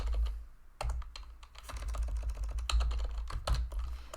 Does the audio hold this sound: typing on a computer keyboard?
yes